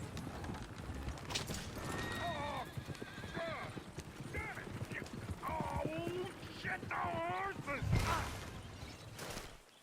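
Horses whinny repeatedly over a steady clatter of hooves in Red Dead Redemption 2, with a loud, busy mix and a brief swell of noise near the end.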